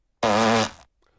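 A single loud, buzzing cartoon fart lasts about half a second, close and clear, then trails off into quiet.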